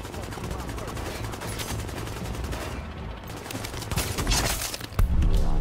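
In The Division, close rapid gunshots and machine-gun bursts hammer on steadily, growing louder toward the end with a sharp heavy blast, while a voice talks underneath.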